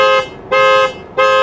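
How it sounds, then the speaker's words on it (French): A Tesla's horn sounds in three short honks, each a bright, steady tone with short silences between, loud and close. "Le klaxon, tu crois que c'est ici, mais c'est pas là. Tu dois appuyer là."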